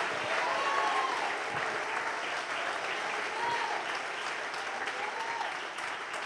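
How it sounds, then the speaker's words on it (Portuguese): A church congregation applauds during a Portuguese-language family worship service, a dense continuous wash of many hands clapping at steady volume, with faint voices mixed in beneath. "joga as mãos para cima e aplauda o nome dele"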